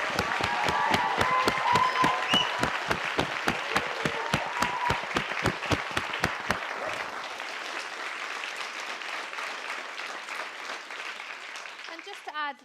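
An audience at a Shakespeare performance competition grand final bursts into applause, beginning with sharp rhythmic clapping that swells into dense, steady clapping before tapering off.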